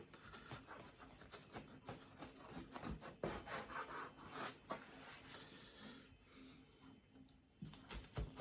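A knife saws through a freshly cooked, soft, yeast-free, egg-free pan bread made without an oven, giving repeated close scraping and rubbing strokes with irregular rhythm.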